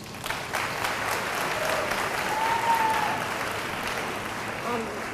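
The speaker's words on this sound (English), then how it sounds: "I think they deserve another round of applause." Audience applause fills an athletic banquet hall for a team, steady and sustained across the whole stretch, with a faint voice sometimes showing through beneath the clapping.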